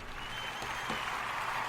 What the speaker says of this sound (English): Big round of applause, big round of applause.